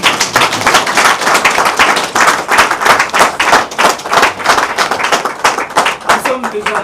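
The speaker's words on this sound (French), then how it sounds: "applaudissons encore pour le président de la République" Applause for the president of the Republic at a press event, dense continuous clapping from a crowd that stays loud and steady throughout, with a voice talking faintly beneath it.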